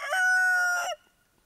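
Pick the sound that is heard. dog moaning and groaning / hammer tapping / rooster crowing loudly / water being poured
rooster crowing loudly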